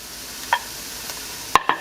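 Ingredients for chiles en nogada sauté in a pan, with a few sharp spoon scrapes and taps over a faint, steady sizzle across a brief moment.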